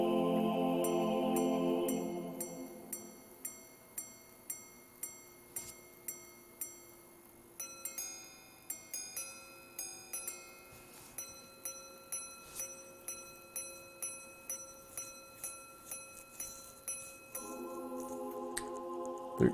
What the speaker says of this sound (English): So I got the grand sonnery, the petit sonnery, all the chimes.